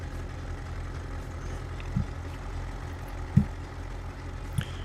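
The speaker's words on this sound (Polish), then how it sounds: "No to talerzówka powinien szybciej iść ten ciągnik." A tractor pulling a disc harrow in the Farming Simulator 19 video game, its engine a low, steady drone with a few faint clunks over it.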